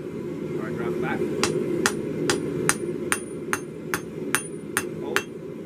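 A blacksmith's hammer strikes metal on a springy anvil, about a dozen sharp ringing blows in a steady rhythm over a low background hum, with faint talk early on.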